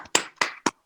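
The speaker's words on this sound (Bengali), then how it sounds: "প্রথমবার মনীষার কোনো পারফরমেন্স আমি একটা হাততালি দিলাম" A few sharp hand claps ring out close and dry at a festive Durga Puja morning program, three quick distinct slaps in under a second with nothing else around them.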